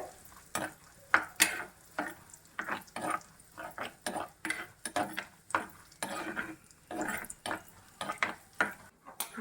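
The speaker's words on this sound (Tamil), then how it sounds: "பொன்னிறமாக வறுத்துட்டு" Cashews roasting to golden brown in a pan for venpongal, a faint sizzle under a busy series of close scrapes and taps as they are stirred, with nobody talking.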